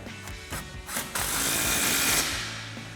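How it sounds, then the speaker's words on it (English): An impact wrench with a 17mm socket tightens a shock bolt on a Toyota Tacoma during a lift kit install, with a few short bursts followed by a sustained loud hammering run. "we're gonna grab our impact 17mm socket and a 17mm wrench and tighten that down"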